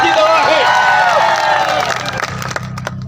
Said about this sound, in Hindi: और आप ताली बजा रहे